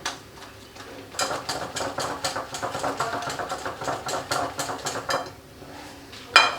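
An egg is beaten into cake rusk batter in a bowl, giving fast, rhythmic tapping and scraping strokes that run steadily for several seconds, then stop, followed by a final sharp clink.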